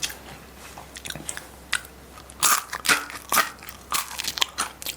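Crisp, loud crunches from biting into the hard crust of a homemade no-knead French baguette, several bites and chews in an irregular rhythm, close up.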